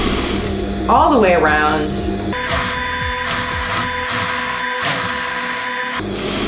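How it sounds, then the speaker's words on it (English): A domestic sewing machine top stitches fabric a quarter inch from the edge, running in a steady rapid mechanical whir in bursts close by, while someone talks briefly over it. "we're just top stitching at 1/4 of an inch"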